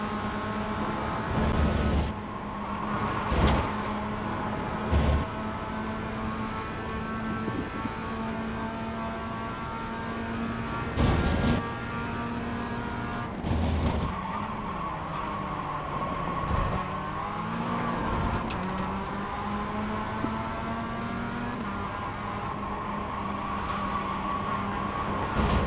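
Race car in the iRacing sim, its engine note holding a steady harmonic drone, then dropping in pitch as it eases off the throttle, with brief gear-shift bursts repeating throughout.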